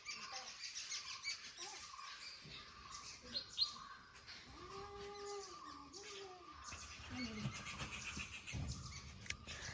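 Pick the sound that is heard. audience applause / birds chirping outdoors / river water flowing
birds chirping outdoors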